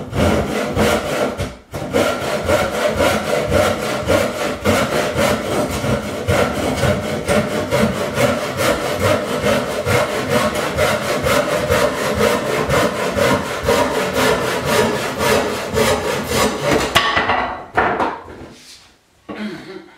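A hand saw cuts a wooden cleat at a 45-degree angle in steady, rapid push-pull strokes, a close rasping rhythm lasting through most of the stretch before the cut finishes and the sound drops away.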